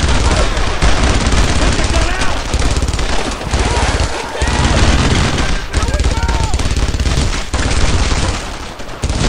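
Sustained, heavy suppressing gunfire is poured onto an enemy gun position during the Purple Heart Lane mission of Brothers in Arms, set in June 1944: loud, close bursts of machine-gun and rifle fire overlap continuously with brief lulls.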